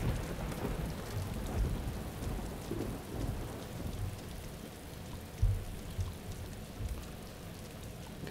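Steady rain with rumbling thunder in the Arma 2 DayZ survival game, a continuous broadband downpour with occasional louder thumps and no speech.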